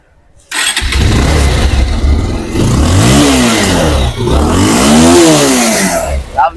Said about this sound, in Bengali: তো জাস্ট দেখো গাড়ি স্টার্ট দেওয়া রয়েছে, সাউন্ডটা শুনে নাও।